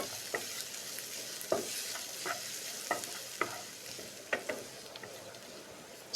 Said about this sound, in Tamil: ஸோ ஆனியன் வந்து நல்லா ஃப்ரை ஆகட்டுங்க.